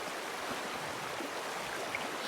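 River water in Red Dead Redemption 2 flows in a steady, soft, continuous rush with no voices over it.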